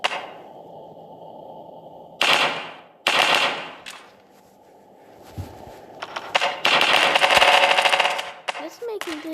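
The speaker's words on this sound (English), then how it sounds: "Next up, this is a machine gun." Rapid bursts of machine gun fire from a firearm in the video game Melon Playground, loud and close, several separate volleys of repeated shots with brief gaps between them.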